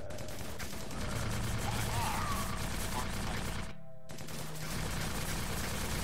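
Gunfire rattles in rapid bursts in the video game Sun Age, with an exploding barrel adding a crash partway through, loud and close. The noise breaks off briefly and then resumes.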